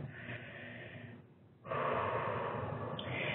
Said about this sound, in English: it's a sympathetic response to have shallow, quick breathing